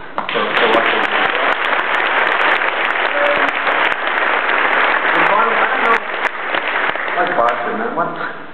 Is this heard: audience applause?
yes